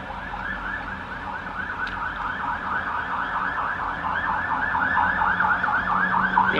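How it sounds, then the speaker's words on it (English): An emergency siren wails in a fast repeating up-and-down cycle, steady and fairly loud, growing slightly louder toward the end over low city rumble. "Why is it every time I do a vlog like this, we get sirens?"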